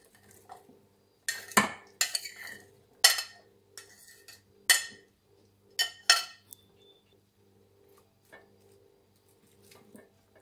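Chopped vegetables, including potato and zucchini, tumble into a pot in a few separate clattering bursts, with metal clinks and scraping between quieter pauses.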